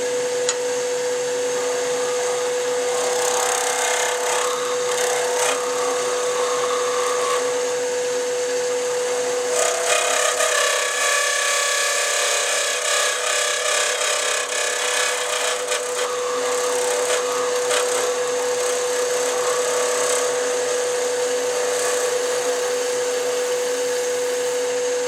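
A sharpened skew chisel cuts a wooden pen top spinning on a lathe at just under 3,000 RPM, giving a steady close hiss and whir over the machine's constant tonal hum, with slight swells in the cutting noise.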